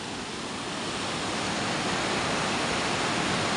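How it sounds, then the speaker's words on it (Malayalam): A small stream near the Vilangad river in Kozhikode flows with a steady, even rush of water, moderately loud and unbroken throughout, with no speech. "ഒഴുകുന്ന ചെറിയൊരു തോട് എന്ന് പറയാം"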